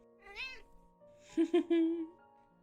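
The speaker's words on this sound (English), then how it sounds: "Precious kitten." Kitten mewing softly up close in a quiet room, one short rising meow followed by a few quick chirping mews and a longer drawn-out cry.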